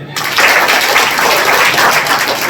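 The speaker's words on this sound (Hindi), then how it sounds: "सम्मान में जो है जोरदार तालियां बजाएं" Audience at a village celebration for Dr. Bhimrao Ambedkar's birth anniversary breaks into loud, dense applause that starts abruptly and holds steady without voices.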